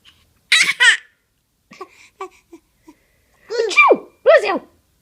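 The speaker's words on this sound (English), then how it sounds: "Achoo! Bless you." A baby sneezes twice in quick bursts near the start, then after a short pause with faint small sounds, two more loud close sneezes follow; an adult voice speaks briefly between them.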